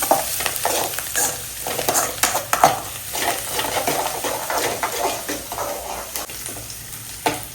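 Onions fry in a pan for a duck fry while a spoon stirs them briskly. A steady close sizzle carries scraping strokes and occasional sharp knocks against the pan.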